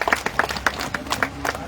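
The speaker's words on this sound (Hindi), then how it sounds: "और ऐसे तालियां बजा के कुछ नहीं बढ़ना" Crowd clapping in quick, steady bursts at an election campaign rally in Una, a moderately loud, regular patter of hands with little else around it.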